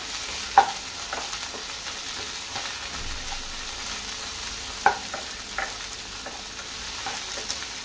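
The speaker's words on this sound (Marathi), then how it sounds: "हे बरें फ्राय करून घेवया." Masala frying in a pan at home over chopped onions, a steady low sizzle with soft stirring scrapes and a few sharper clicks from the spoon, fairly quiet and without speech.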